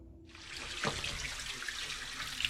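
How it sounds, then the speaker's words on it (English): Water gushes out of a hot water heater tank as it is drained quickly. A steady, close splashing rush begins abruptly and keeps flowing without any voices. "We're draining the tank the fast way."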